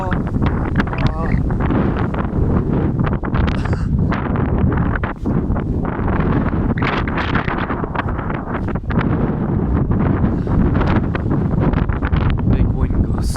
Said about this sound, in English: Big wind gust.